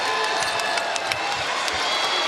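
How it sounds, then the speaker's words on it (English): A packed arena crowd at an NCAA women's basketball first-round game, USC vs. Texas A&M-Corpus Christi, roars loudly and steadily for a walk-on player entering the floor, with cheering and scattered claps blending into one continuous wall of noise. "One of the loudest cheers of the night when India Otto comes onto the floor."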